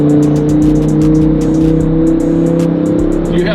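A Lamborghini Huracan engine revs loudly up close with a deep steady drone, punctuated by a rapid series of crackling exhaust pops.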